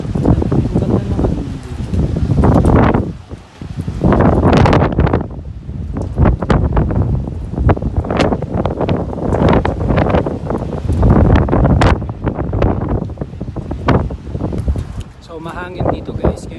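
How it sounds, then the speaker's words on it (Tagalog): Strong gusting wind in Jeddah, Saudi Arabia just after rain, loud rumbling buffets hitting the microphone in waves, with a person talking throughout. "So mahangin dito guys ngayon sa Jeddah dahil kakatapos lang ng ulan"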